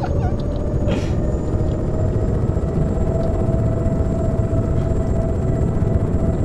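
Helicopter in the DayZ mod The Day After, a loud, steady rotor and engine drone heard from inside, constant and close throughout.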